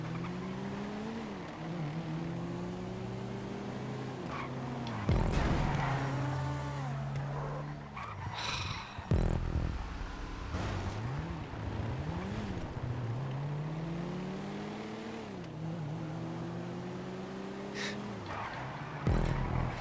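A Futo car racing in GTA 5, its engine revving up and down through gear changes with rising and falling pitch, tires squealing in corners and occasional thuds, loud and continuous.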